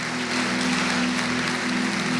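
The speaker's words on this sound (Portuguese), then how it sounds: "Se é para Jesus, pode aplaudir, que Ele merece." An audience claps together during a Christian worship broadcast, a dense, even wash of applause with a steady low tonal hum running underneath and no speech.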